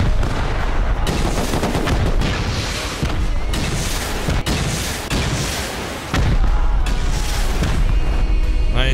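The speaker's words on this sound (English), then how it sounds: "grab the launchers and stuff, and we're gonna try and rocket this the rest of it from far" Rocket launchers firing in the survival game Rust, heard as dense, loud booming blasts and crackling gunfire that roll on continuously with barely a break, with a sharp cut near the middle and a brief dip before the barrage resumes.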